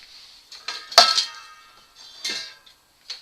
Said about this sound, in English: that is my little folding frying pan